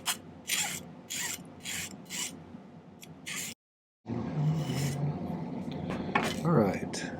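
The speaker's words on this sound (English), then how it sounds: "I'll probably file that a little flatter." Hand file rasping on a silver earring base, flattening it: short repeated strokes in a rhythmic series, a brief silence, then steadier scraping with faint talk.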